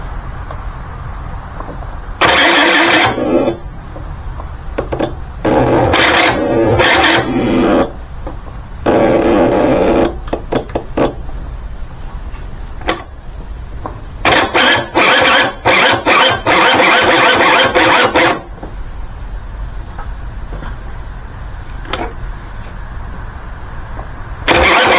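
A 1984 scooter engine, left sitting in a shed for about 30 years, cranks repeatedly after a shot of ether, giving loud bursts of churning and sputtering separated by short pauses, close up with no talk.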